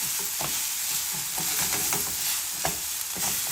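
Rice and softened vegetables sizzle in a hot pan for Spanish rice while a spoon stirs, giving a steady frying hiss broken by repeated scraping strokes, close and alone.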